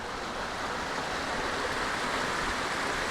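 A creek flows under a small man-made trail bridge on the Cucumber Gap to Little River Trail loop, a steady, dense rush of water heard close, with no break or talk.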